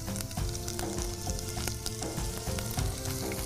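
Half a spoon of asafoetida and finely chopped ginger sizzle in hot oil for tempering a bitter gourd sambar, a loud, crackling fry with bursts of spitting and stirring, no voices.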